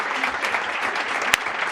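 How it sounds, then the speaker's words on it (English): Audience applause for start-up pitch presenters at an event in The Hague, a brisk, continuous patter of many hands clapping with one sharp louder clap standing out near the end. "I want you to give them the most amazing round of applause"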